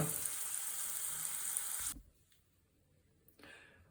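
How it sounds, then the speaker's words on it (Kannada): Chicken sizzles in hot oil for chicken pepper dry, a loud bright crackling hiss that cuts off abruptly partway, leaving near quiet before a faint return. "ನಾವು ಇವಾಗ ಎಣ್ಣೆಯಲ್ಲಿ ಚಿಕನ್ ಫ್ರೈ ಮಾಡ್ಕೊಂಡಿದ್ದೀವಿ"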